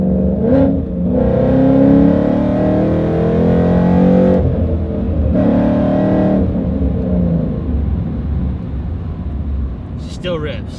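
A Ford Mustang engine revs hard with a loud, throaty roar that surges and dips across several pulls, close and dominant, with a faint voice near the end.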